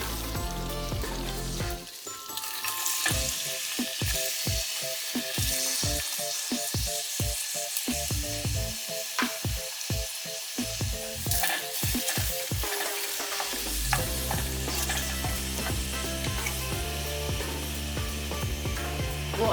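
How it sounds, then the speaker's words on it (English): Celery frying over medium heat in a pan, a loud steady sizzle with a run of regular stirring scrapes in the middle, then continuous frying; no talk. "we'll put our celery in first, leaving back the green onion."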